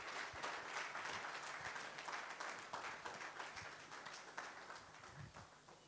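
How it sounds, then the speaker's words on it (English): Audience at a dental event breaks into sustained applause, many hands clapping in a continuous, fairly even wash that stays loud for several seconds before easing slightly at the end. "Please, a round of applause for him."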